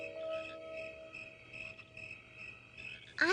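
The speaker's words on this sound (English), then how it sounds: "I hear crickets chirping. And frogs." Crickets chirp and frogs croak at night, a faint, continuous outdoor chorus of steady trilling tones with soft pulsing calls underneath, heard alone without voices.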